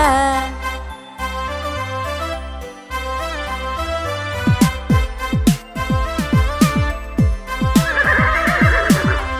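A horse whinnies loudly and close over a children's rhyme about a wooden horse, with a descending neigh followed by rapid fluttering calls and faint jingling near the end.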